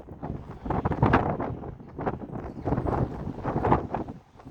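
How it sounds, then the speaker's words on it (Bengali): Strong wind buffets the microphone in loud, uneven gusts, rumbling and rising and falling throughout, outdoors on grass in Prospect Heights, Illinois, USA. "প্রচন্ড জোরে হাওয়া দিচ্ছে"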